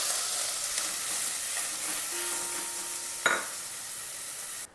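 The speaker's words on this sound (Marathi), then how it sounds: "आता या तापलेल्या तुपावर आपण हा किसलेला भोपळा घालूयात" Grated red pumpkin cooking in hot ghee gives a steady, quiet sizzle that runs the whole time, with one brief scrape of a spoon near the end.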